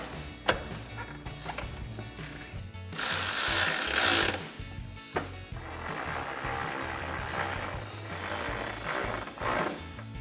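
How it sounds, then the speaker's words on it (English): Ratchet with a 10mm socket tightening headlight mounting bolts on a 2019-2023 RAM 1500, a close, loud stretch of rapid mechanical clicking and whirring that runs in bursts with brief pauses, no voices. "And we'll take our 10mm socket to tighten these down."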